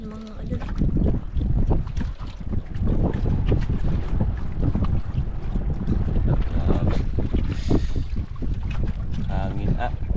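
Steady wind buffeting the microphone outdoors, loud and gusty throughout, with muffled voices and water-like noise underneath.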